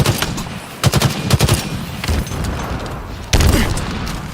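Halo Infinite team slayer combat: bursts of automatic gunfire rattle up close, broken by heavy grenade booms, with loud impacts at the start and again near the end.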